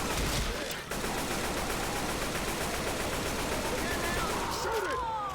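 Dense rapid gunfire pours onto the Tank in Left 4 Dead 2, a loud, continuous barrage of overlapping shots with game noise and voices beneath.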